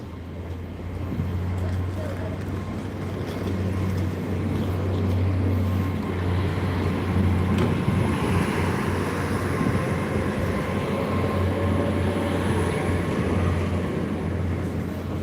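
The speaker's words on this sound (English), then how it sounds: "Train's exiting at quite speed." Train pulling out of a Gloucester station and picking up speed, a steady low rumble with deep engine drone and rising wheel noise that swells and holds for several seconds, close by and fairly loud.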